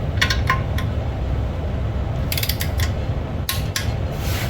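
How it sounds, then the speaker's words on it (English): A tool tightens bolts on a diesel Ford Ranger fitted with an OM603 engine. Low mechanical rumble sits under a few sharp metallic clicks and ratcheting taps in short bursts, close up, with no talking. "So we'll torque them down to 35 now."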